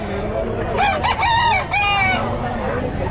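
Roosters crow in long rising calls at a busy pet market in Bocaue, with clucking and a steady murmur of crowd noise underneath.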